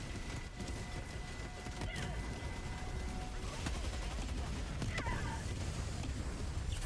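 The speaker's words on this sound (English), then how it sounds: "That was an awesome explosion." Video game explosions and gunfire from a Cyberstan invasion battle, a faint, busy stream of crackling blasts and bursts with a sharper bang near the end, low in level with no clear talk.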